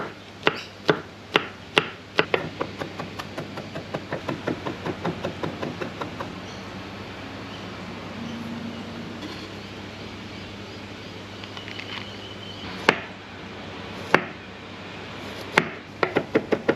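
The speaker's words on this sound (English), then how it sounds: "garlic chopped up" Garlic chopped with a knife on a board: a fast run of sharp, close, rhythmic chops that slows and thins out, then a few isolated knocks, with birds faintly in the background outdoors.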